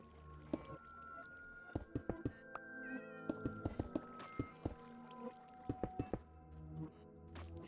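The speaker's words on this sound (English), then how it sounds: "I hear a cat somewhere." A cat meows repeatedly indoors, a string of short, fairly close calls spaced irregularly across several seconds over a quiet room background.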